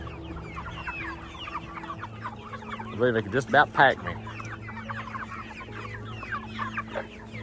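Chickens cluck continuously in a barnyard, a busy chorus of overlapping calls with a louder burst of excited squawks in the middle, while someone talks briefly over them.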